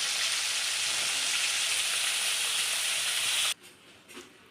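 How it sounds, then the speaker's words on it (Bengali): Rohu fish fries in hot oil, giving a steady loud broadband sizzle that cuts off abruptly near the end, followed by a few faint clatters. "আমি এখানে মাছটা ভাজা বসিয়ে দিয়েছি।"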